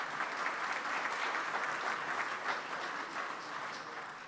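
Many hands clap at a Rotary club meeting, a steady, moderately loud round of applause from the gathered members with slight swells, no talk over it.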